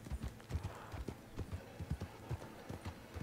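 Horse hooves clip-clop in a steady, close rhythm of repeated thuds, with faint background noise and no talking.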